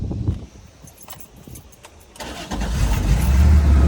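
Keys jingle and click, then the engine of a 1980 Porsche 911SC cranks and catches, settling into a loud, rumbling idle.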